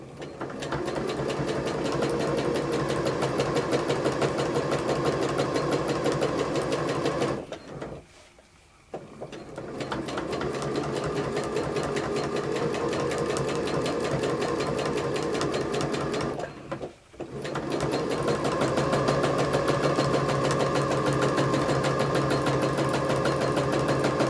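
A small domestic sewing machine stitches feathers in free motion quilting, running in a steady, loud mechanical whir that stops briefly twice before resuming.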